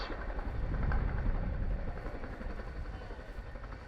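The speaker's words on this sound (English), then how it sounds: "Touching down now, if you look to the rear, you'll see our crewman on the ramp, Flight Sergeant Dave Sims." An RAF Chinook HC.5 twin-rotor helicopter landing at an air show, with a close, loud, steady rotor thump and engine roar throughout.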